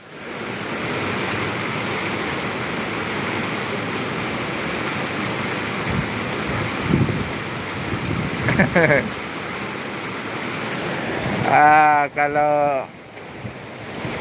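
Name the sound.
rain falling in Palembang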